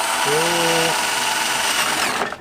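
A power drill bores a hole in a formwork board, giving a loud, close, high-pitched whine that holds steady, then stops abruptly near the end, with a brief voice at the start.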